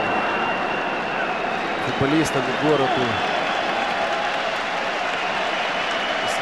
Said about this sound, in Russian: Если слышно, оплески зрителям, да, аплодисменты, поддержку одесской команды и жителей этого города